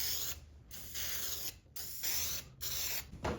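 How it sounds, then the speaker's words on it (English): Spray lacquer hisses from an aerosol can in four bursts of about a second each with short gaps between, close and loud, while finishing a homemade bow bread knife. "For something like this, I like to just use spray lacquer."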